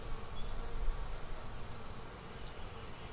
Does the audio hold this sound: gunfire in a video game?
no